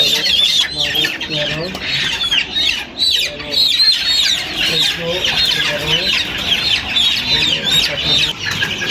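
Dense, continuous clucking from many chickens on a poultry farm where chicks are reared, loud and close with overlapping calls throughout.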